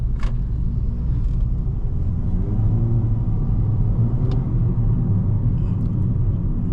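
A 2022 Toyota Corolla Altis GRS accelerates, heard from inside the cabin as a steady, loud low-frequency engine and road rumble with no distinct rev changes.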